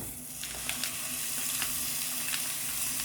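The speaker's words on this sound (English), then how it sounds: "So let's get our ground beef in. It's hot. This pan is hot." Ground beef sizzles steadily in a hot pan, a continuous close frying hiss with a few soft clicks and stirring touches, no talking.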